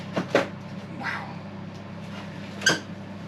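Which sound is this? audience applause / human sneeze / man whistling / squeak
squeak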